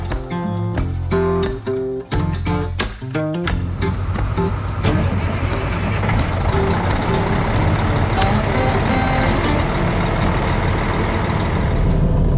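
A semi truck's diesel engine cranks in several uneven bursts, catches and settles into a loud, steady idle rumble close by, with hissing air sounds over it.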